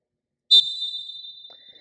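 A basketball referee gives one sharp, shrill whistle blast that cuts off quickly and leaves a thin lingering tone, heard clearly against near silence.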